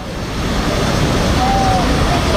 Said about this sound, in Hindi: पुल बहता चला गया पानी के बहाव में।